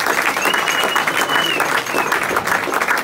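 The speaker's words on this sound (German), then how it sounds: "Und deswegen auch mal nochmal ein großer Applaus" Crowd applauding after an amateur football match, loud dense clapping close by with faint crowd murmur mixed in throughout.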